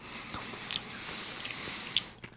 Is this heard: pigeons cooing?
no